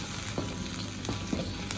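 Soybean paste and aromatics stir-fry in a hot wok for Northeastern braised eggplant, a soft continuous sizzle with a few light scraping strokes, fairly quiet.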